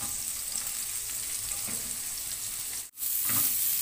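Onions sautéing in the pan just used for sausages, a loud even hiss of frying that runs steadily, cuts out for a moment near the end and then comes back strongly.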